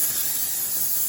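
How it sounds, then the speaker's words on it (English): Cooking spray hisses from a can into the bottom of a hot air fryer basket preheated to 400 degrees, a steady, close, bright spray lasting about a second with no talking over it. "spray the bottom"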